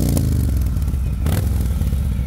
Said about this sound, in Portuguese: dá uma acelerada pra gente ver o escapamento aqui.